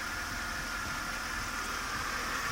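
A Mercedes W210 car engine, warmed up and running on LPG, idles steadily at low volume, a constant even rumble with a faint hum and no changes in pitch.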